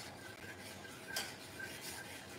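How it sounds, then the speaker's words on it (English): A spoon stirs chunky keto gummy bear mixture that sticks to the bottom of a pot, making a quiet, steady scraping rub with a few brief scrapes standing out. "That's why you got to stir it."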